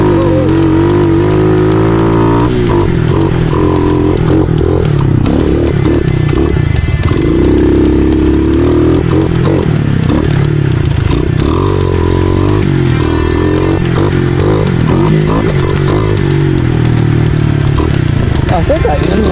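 A small dirt bike, a Yamaha TTR 110 or Kawasaki KLX 143, revs hard on a lap with a slight sputter at the bottom, a loud, close, continuous buzzing engine rising and falling in pitch.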